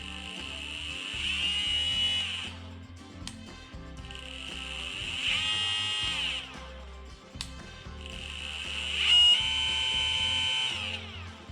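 A homemade e-bike motor system runs on the ground off the bike, whining loudly in three sustained bursts as it is stepped through its speeds, with mechanical buzzing and clicks between runs.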